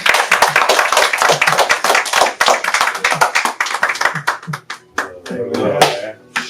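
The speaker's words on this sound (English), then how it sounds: "give a round of applause for my man, CEO JED" Close, loud clapping at a live talk show as a guest, Street Capital's CEO JED, is welcomed, with sharp irregular claps that thin out near the end as voices come in.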